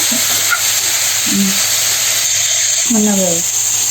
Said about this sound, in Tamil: நான் தக்காளி சுரைக்காய் 2ஐயும் சேர்த்தே போட்டுருவேன். ஒரு 2 செகண்ட் வதக்குங்க போதும்